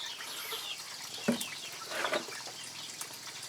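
Young native chickens on a Thai smallholding give a few faint, brief clucks over a quiet, noisy farmyard background.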